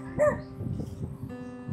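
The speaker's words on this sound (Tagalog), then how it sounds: "Ayan, may aso na naman." Dog barks and yips near a rough rural road, a couple of short sharp calls followed by softer whimpering sounds, moderately loud with some background noise.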